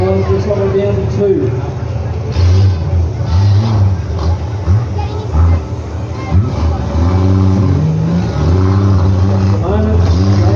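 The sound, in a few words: demolition derby car engine running and revving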